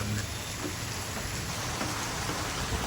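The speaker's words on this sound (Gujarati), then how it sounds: "બાર વરસાદ પાછો ધોધમાર ચાલુ થઈ ગયો છે" A heavy nighttime downpour makes a dense, even hiss of rain hitting surfaces close by, steady from start to finish with no talk.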